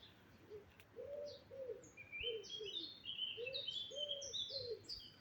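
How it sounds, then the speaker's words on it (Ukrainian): Birds singing outdoors: repeated low cooing phrases alongside a busy stream of high chirps and twitters, steady and moderately loud throughout. "як пташки співають"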